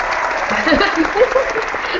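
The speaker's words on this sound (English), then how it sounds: "I want to give all of you a round of applause" Audience at a university career week panel clapping for the panelists, a short burst of applause mixed with crowd murmur and voices close by.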